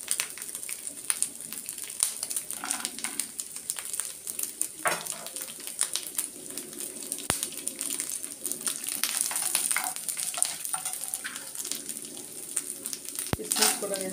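Cashews frying in a pan as festival prasadam is made, a continuous crackling sizzle broken by sharp clicks and scrapes of a spoon stirring, close and fairly quiet.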